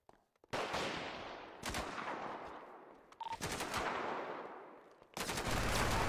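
Sustained bursts of gunfire from the video game Grand Theft Auto, loud and close, coming in four long rattling volleys with short gaps between them.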